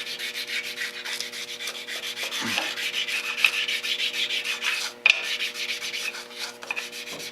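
A file rubbing a small burr off the edge of a part, heard as close, steady rasping strokes repeated in a quick back-and-forth rhythm, with one sharp knock midway and no speech.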